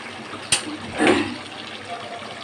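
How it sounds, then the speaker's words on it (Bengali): A brief splash of hot water poured into a pot of cooking duck meat, with a short sharp knock just before it, then quiet background. "এই যে একটু গরম পানি দিয়ে দিলাম।"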